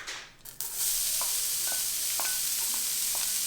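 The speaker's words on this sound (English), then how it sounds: "I'm adding in 2 chopped shallots" Chopped shallots hit a hot pan with a sudden burst of steady, bright sizzling that holds loud and close, with a few soft stirring clicks, no voices.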